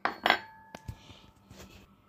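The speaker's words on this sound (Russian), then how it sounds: "Ножик," A kitchen knife and fork are picked up and handled, giving a few close metallic clinks and taps, sharp at first then softer, with no talk.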